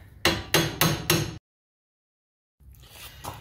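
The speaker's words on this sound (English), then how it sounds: "we'll grab a pickle fork and then we'll separate the 2." Four sharp, evenly spaced metal strikes from hammering a pickle fork to split a lower ball joint on a 1996–2000 Honda Civic, loud and close, followed by silence and then faint workshop noise.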